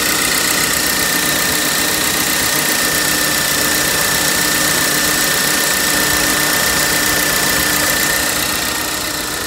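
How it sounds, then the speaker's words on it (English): A 2012–2014 Volvo S60 idles with its A/C compressor running after a coil replacement and system recharge, giving a loud, steady, close-up mechanical drone with a constant whine and no voices. "we finished regassing the system. Show you the compressor running."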